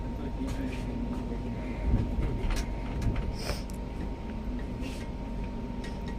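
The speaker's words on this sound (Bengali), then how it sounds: "আমি হাওড়া থেকে চণ্ডীগড় যাচ্ছি ট্রেনে করে।" A passenger train runs steadily along the rails from Howrah toward Chandigarh, heard from inside the carriage as a constant low rumble with faint rhythmic clicks and rattles throughout.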